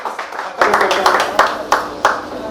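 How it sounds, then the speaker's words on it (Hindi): Scattered hand clapping from a group, with uneven sharp claps and crowd noise rising after a quiet start. "आए हुए परिवार का तालियों के साथ स्वागत करें"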